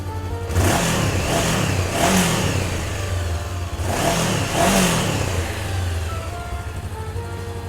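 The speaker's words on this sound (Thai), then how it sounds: "มาฟังเสียงท่อกันเลย ท่อนุ่มๆเลยนะครับเพราะเลย สไตล์ 2 สูบนะฮะ" A 2018 Honda CBR500R parallel-twin motorcycle revs loudly and close by through its exhaust, with three or four smooth, rising throttle blips over a steady idle and no talking.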